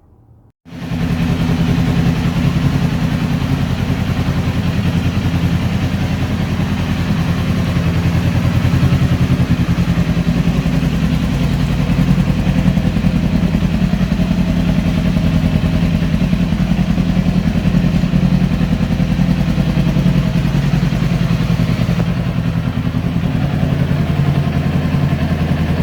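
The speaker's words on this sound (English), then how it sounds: "So now I'll turn the bike on and let it idle for a few minutes to heat up." A 2018 Kawasaki Ninja 400 idles to warm up before an oil and filter change. It starts with a steady, loud mid-pitched engine hum that runs unbroken and alone, close to the machine.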